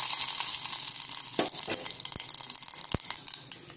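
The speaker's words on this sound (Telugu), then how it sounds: "ఆయిల్ హీట్ అయింది కదా, అందులో కొంచెం పచ్చెనపప్పు, ఆవాలు, అలాగే జీలకర్ర వేసి ఫ్రై చేసుకుందాం." Chana dal, mustard seeds and cumin seeds frying in hot oil, giving a steady close sizzle with scattered sharp pops and crackles, no voices.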